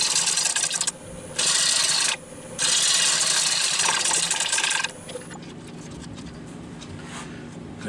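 Wood lathe turning a walnut live-edge crotch, with loud rasping cutting bursts broken by short pauses over a steady motor hum that continues quietly after the cutting stops.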